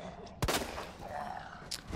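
Gunshots fired at zombies in Resident Evil 2 Remake ring out as two sharp cracks, one loud near the start and a fainter one later, over low game ambience.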